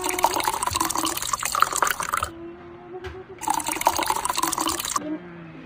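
Orange ice candy mixture is poured into small plastic bags, giving two bursts of splashing liquid pouring close by, separated by a short pause with a faint tap, and followed by quieter trickling.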